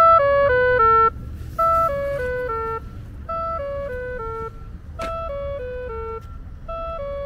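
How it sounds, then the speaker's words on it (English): Audible pedestrian crossing signal at Bonny Doon light rail station, a clear, cheerful chime of descending tone patterns that repeats several times in a steady rhythm over faint traffic hum. "Bonny Doon has a really charming audible signals for pedestrians"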